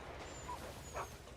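A dog in a video game, heard faintly as a brief whimpering yip, then a short bark.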